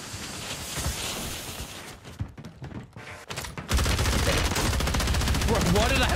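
Warzone battle-royale gunfire: dense, loud bursts of shots in the first two seconds, a brief lull, then a heavy sustained barrage of rapid fire close by for the rest, with no voices.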